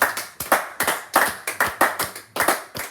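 A church congregation applauding in praise of the Lord: rhythmic group clapping in steady, evenly spaced bursts, fairly close and loud, without talking over it.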